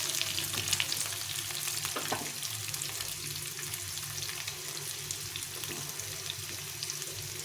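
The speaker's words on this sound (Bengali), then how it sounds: "পেঁয়াজটাকে দিয়ে দিলাম, দিয়ে আবার একটু ভালো করে ভেজে নিতে হবে।" Onion frying in a pan for a rice dish, a steady close sizzle with faint crackles and an occasional stir or scrape, no talking.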